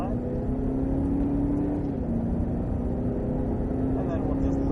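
Inside a Cadillac CTS-V on the Sonoma race track, the engine drones steadily and loudly under acceleration, its pitch dipping and climbing, heard from the cabin with a continuous roar and no break.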